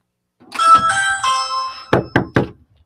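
A house doorbell rings a sustained, tonal two-note chime, then three quick, loud knocks on the door follow. The sound is close and clear against silence.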